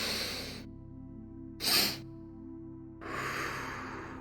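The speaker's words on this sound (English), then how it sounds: "It's 2 inhales through your nose and 1 exhale out your mouth." A physiological sigh is heard as two short nasal inhales followed by one longer mouth exhale, soft breathy hiss close to the ear, with no talking.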